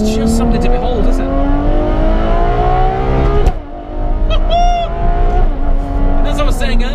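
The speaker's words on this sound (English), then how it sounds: "Like I'm on the upshifts now, there's no drama there." A Lykan Hypersport accelerates hard with its engine note climbing steadily, cutting out briefly for a quick upshift midway before rising again, loud and close, as someone talks over it.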